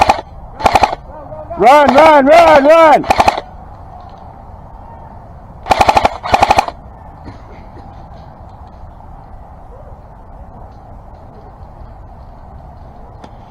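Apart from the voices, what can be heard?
airsoft Matrix M4 LMG firing suppressive fire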